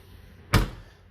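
A Fiat Panda 4x4 car door shuts with a single close, solid thud over quiet background, fading quickly.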